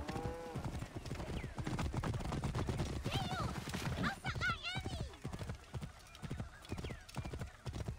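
Hooves clatter in a fast galloping rhythm in Assassin's Creed: Origins, with a horse whinnying partway through and a voice talking over the top.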